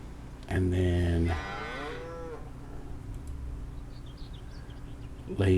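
Cattle on a farm let out a loud, drawn-out moo close by, then a second lower, wavering call, with a quiet stretch and the start of another moo at the end.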